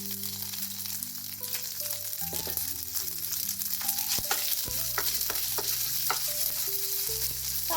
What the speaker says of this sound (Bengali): এইবার আমি এর মধ্যে আদা জিরে বাটা দিয়ে দিচ্ছি, দিয়ে খুব ভালো করে নাড়াচাড়া করে নেব।